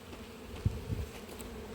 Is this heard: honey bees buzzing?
yes